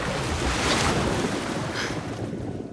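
A splash into freezing water in a Japan walking video game: a loud, dense wash of churning water that fills the whole moment and tapers slightly at the end, with no voices.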